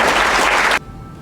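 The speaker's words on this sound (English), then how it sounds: "So let's give a round of applause for John." A conference audience at a Wing Chun kung fu summit claps, the dense applause loud and steady before cutting off abruptly partway through into quiet room tone.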